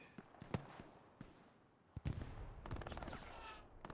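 Gunfire in an 18-versus-18 team match of a war shooter game on a Kharkov map, with a few scattered far-off shots followed by a denser burst of rapid fire, all faint in the distance.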